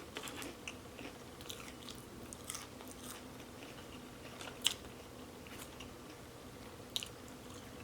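Biting and chewing a Burger King Impossible Whopper close to the mic, with soft wet mastication running throughout and a few sharper crunchy bites standing out, no talking.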